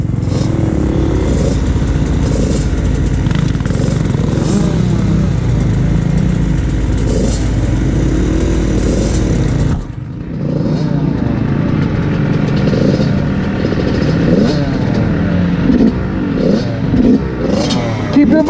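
Dirt bike engine revving hard and steadily while climbing a hill on a wooded trail ride near the Delaware Water Gap, loud and close for the whole stretch with a brief dip in the middle, voices faintly under the engine.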